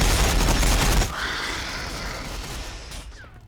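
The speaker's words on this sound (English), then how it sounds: "Warbikers firing, boss!" Ork warbikers open fire in a Warhammer video game battle against Necrons, a dense loud burst of rapid gunfire for about a second, then a fainter sustained rumble of game effects trailing away.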